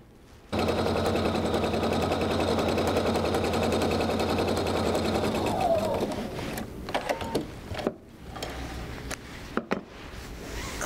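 A sewing machine stitches along a quilt row in a loud continuous whirring run that lasts several seconds, then slows and stops, followed by scattered handling clicks and fabric rustle.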